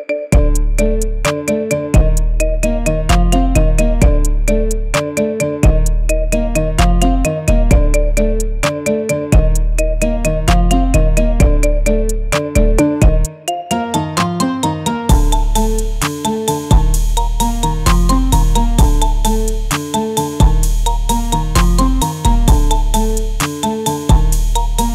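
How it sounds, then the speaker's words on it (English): A bright, bouncy marimba remix loops continuously as a ringtone, with plucked mallet-like tones over a steady bass pulse. Loud, with no voices. "Get this cool ringtone for your phone now."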